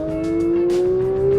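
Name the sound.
Porsche 992 GT3 accelerating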